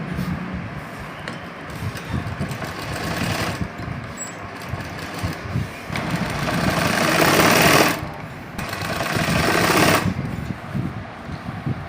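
A sewing machine runs basting stitches around the waist of a Ghoomar-style designer bridal lehenga, holding three fabric layers together, in uneven bursts of rapid needle chatter that swell louder in two longer runs near the end.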